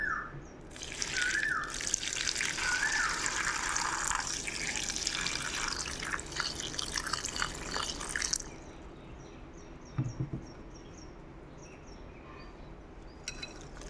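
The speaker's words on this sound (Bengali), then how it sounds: "এবার এর মধ্যে দিয়ে দেবো আমি জল" Water is poured onto peeled tamarind in a bowl for pickle, a close, steady splashing stream that runs for several seconds and then stops, followed by faint drips and handling sounds.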